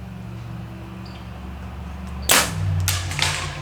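Arrow loosed from a bow during nock tuning, a single sharp crack then a short burst of impact noise as it strikes high on a target near a stand, over steady low background hum.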